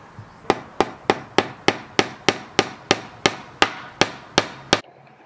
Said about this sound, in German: und nehme diese kleinen Nägelchen und den Hammer